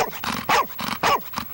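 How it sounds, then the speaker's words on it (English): A trained dog barks on cue, giving about four sharp, close barks in quick succession with short gaps between them, loud and clear with no voices over them. "Babette and Gordon taught their charges to bark on cue and stop when signaled."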